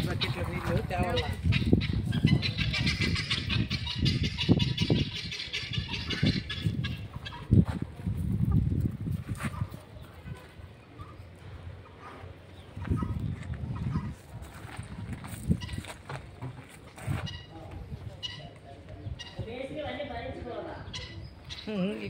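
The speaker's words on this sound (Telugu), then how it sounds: "ఈ కోళ్ళు చూడు" Chickens cluck and call close by in a yard, mixed with scattered thumps and shuffling, while people talk intermittently.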